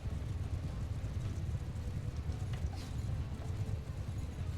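Distant, muffled hoofbeats rumble continuously, like a group of mounted horse archers galloping in Mount & Blade II: Bannerlord, beneath a low steady roar.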